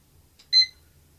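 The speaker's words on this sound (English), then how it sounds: "I'm going to hit my egg timer." A single short electronic egg-timer beep, bright and clear over a quiet room background, lasting a fraction of a second.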